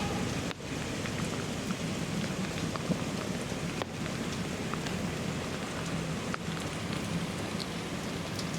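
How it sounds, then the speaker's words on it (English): Steady rain pours down on a street during a Veterans Day parade in Sylacauga, a dense continuous hiss of drops on surfaces with a few sharp crackles, no voices heard. "taking cover in such rainy weather"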